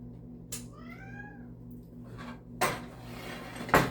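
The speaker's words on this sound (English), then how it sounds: "let's scrape that goodness off" A utensil scrapes baked hashbrown casserole off a metal pan in a kitchen, with rough scraping bursts and clatter near the end, after a cat meows nearby.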